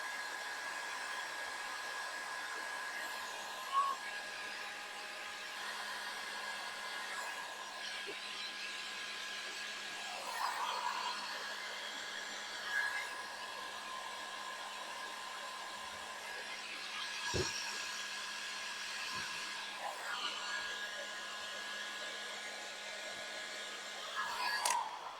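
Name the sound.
heat gun shrinking heat-shrink tubing on tractor light wiring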